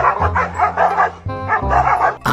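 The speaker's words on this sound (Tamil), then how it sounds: "ஒரு எலும்பு துண்டுக்கு இந்த ரெண்டு நாய் சண்டை போட்டுட்டு இருக்கும்போது" Two dogs fighting over a bone, loud close barking and yelping in rapid repeated bursts with brief whimpers between, no talking.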